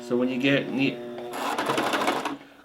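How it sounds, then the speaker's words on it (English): A sewing machine runs a short burst of stitching as the fabric nears a corner, whirring after a voice speaks briefly. "push it down manually using the side of your sewing machine"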